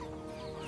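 A free-range country chicken caught in a village yard for curry gives soft, steady clucking close by across a short stretch, with no talking over it.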